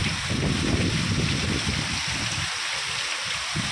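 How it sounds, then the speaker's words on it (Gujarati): Floodwater from a sudden river surge rushes past in a continuous broad roar, close and steady, mixed with wind buffeting the microphone, with no voices. "પાણી જાય છે અત્યારે"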